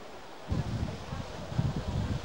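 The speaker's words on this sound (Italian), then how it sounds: "oltre alla pioggia c'è anche un fortissimo vento contrario" Strong headwind and rain at an outdoor athletics meet, a steady gusty roar with rustling bursts buffeting the microphone, loud and continuous without voices.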